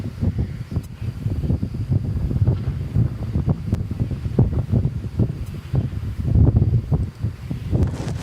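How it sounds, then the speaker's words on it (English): Strong wind buffeting an outdoor microphone at night at a plane-spotting spot by DFW Airport, a continuous low, rough rumble with gusty swells and no talking. "the wind is blowing at us instead of behind us"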